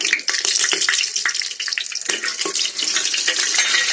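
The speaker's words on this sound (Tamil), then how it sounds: "அடுத்து ஒரு நாலஞ்சு கிராம்பு போட்டு நல்லா வதக்கலாம்" Cloves and bay leaf sizzle and crackle in hot oil, apparently in a clay pot, with close, steady frying noise broken by sharp pops and a few stirring scrapes.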